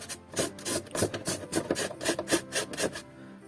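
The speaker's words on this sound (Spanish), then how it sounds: "Pincel seco sin pincel, con esponja." A sponge loaded with paint is dry-brushed over a rough modelling surface, making a close, rhythmic scratchy rubbing of about a dozen quick strokes.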